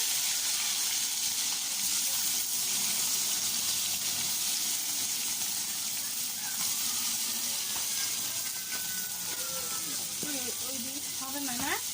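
Native climbing perch (koi fish) frying in a pan in a village kitchen, a steady close hissing sizzle throughout, with voices in the background.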